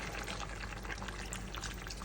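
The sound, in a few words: pouring water into a cooking pot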